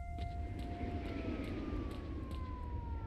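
A wailing siren drones with slowly falling pitch inside the S.T.A.L.K.E.R. Shadow of Chernobyl video game, steady and moderately distant over a low rumbling background.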